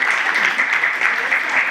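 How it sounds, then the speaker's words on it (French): Dense, steady applause from an audience at an academic economics debate, a continuous patter of many hands clapping at once with no talking over it. "Donc il faut applaudir aussi."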